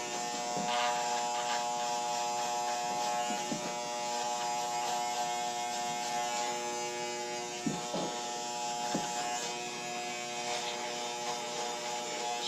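Electric hair clippers buzz steadily while cutting a man's hair with a guard attached, a close continuous hum with faint tonal whine and brief dips as the blades move through the hair, no voices.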